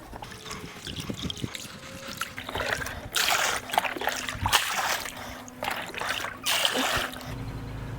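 Pool chemical is poured into above-ground pool water, making gushing splashes and trickles in uneven bursts close by, with quieter gaps between pours.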